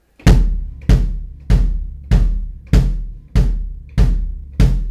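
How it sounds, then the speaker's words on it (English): Eight deep bass drum thumps at a steady, even pace, each hit booming and decaying before the next, played alone. "I want you just to play quarter notes on the bass drum that sound like this."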